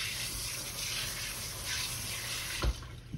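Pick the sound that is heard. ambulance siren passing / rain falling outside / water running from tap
water running from tap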